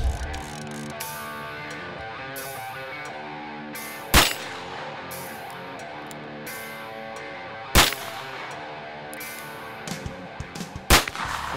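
A Ruger Single-Six revolver chambered in .17 HMR fires three sharp, loud shots several seconds apart, with a fourth near the end, over a steady outdoor background hum on a shooting range.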